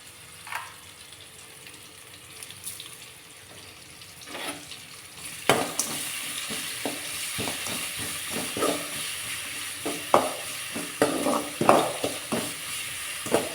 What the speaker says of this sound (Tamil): வெங்காயத்தை வதக்கிமா